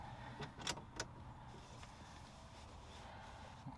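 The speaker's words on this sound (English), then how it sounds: "Let's go key on and see if it works." A key turns on in the ignition of a Toyota AE86 car. A few quick clicks and a light jingle come early, then a faint, steady electrical hum continues.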